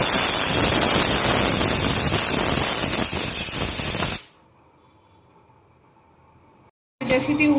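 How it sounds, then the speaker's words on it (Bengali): A pressure cooker with mutton inside vents steam in a loud, continuous hiss for about four seconds, then cuts off abruptly to a quiet low hum before a brief burst of noise returns. "সিটি উঠে গেছে, এবার ঢাকনাটা খুলে ফেলবো।"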